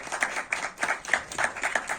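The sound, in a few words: audience clapping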